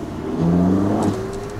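A Ferrari 458 Speciale accelerates nearby, its engine rising into a brief, loud, smooth rev with a steady whirring tone that then settles back.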